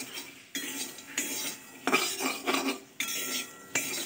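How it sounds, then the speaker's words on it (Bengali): Spices dry-fried in a pan are stirred with a metal utensil, producing a series of scraping, clinking strokes in uneven bursts, close and moderately quiet with no talk. "সমস্ত মশলা এবার আমি একে একে ভাজতে রইলাম।"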